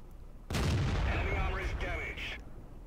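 A heavy tank cannon fires from the Black Prince in World of Tanks, one loud booming blast followed by a long rumbling tail and mechanical reload clanks.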